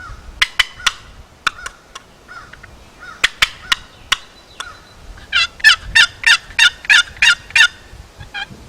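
A paddle-style box turkey call imitates a hen turkey: a few sharp, spaced clucks, then fast, loud bursts of cutting in a tight, excited rhythm, close and alone.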